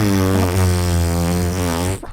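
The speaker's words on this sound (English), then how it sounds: "that's a long fart" A long, steady buzzing fart-like tone that holds for about two seconds, then trails off abruptly.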